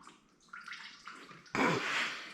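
Coolant drawn by a custom M18 battery-powered syphon pump, a soft trickle that suddenly swells into a loud gushing pour of liquid, close up.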